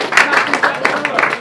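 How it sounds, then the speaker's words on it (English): A small group of men claps for a newly elected football club captain in a changing room, a brief uneven burst of hand claps with voices mixed in underneath. "Give him a round of applause,"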